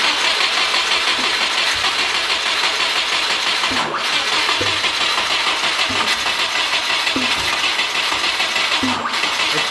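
A 600 hp Cosworth EJ257 swapped into a Subaru Forester runs loud and steady with a harsh, broadband roar, and sharp pops break through near four and nine seconds as the engine backfires.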